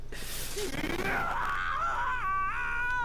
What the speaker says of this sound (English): Ishimaru bitter screams echo throughout the courtroom